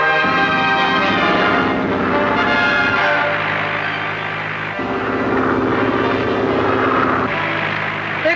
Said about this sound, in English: Keep above that helicopter.